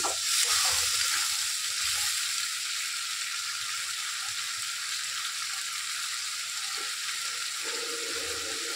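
Onion and tomato fry in a pan for a fish egg gravy, making a loud, continuous hissing sizzle with a few faint clinks and stirring sounds.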